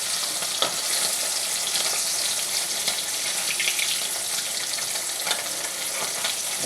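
Fish frying in a pan, a close, continuous hissing sizzle with small crackles that stays even throughout and carries no talk.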